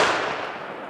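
A single sharp, loud blast from a .50 caliber AR rifle fired at bowling pins, the report ringing out and decaying within about a second, with no voices.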